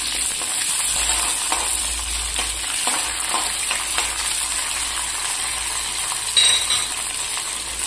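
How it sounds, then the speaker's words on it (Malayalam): Curry leaves sizzle and crackle in hot oil in a pan for an onion curry, a steady close frying hiss with scattered pops and sharper spits, no talking. "നന്നായി പൊട്ടിക്കഴിഞ്ഞാൽ കരിവേപ്പില ഇട്ട് കൊടുക്കുക"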